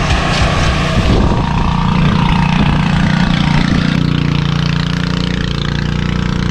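A water pump runs loudly and steadily while filling a tank, a dense droning hum with a throbbing low rumble that shifts slightly in tone partway through and carries on without pause.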